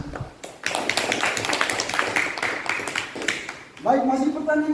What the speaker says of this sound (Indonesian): Mari kita tepuk tangan untuk jawaban pertanyaan ini.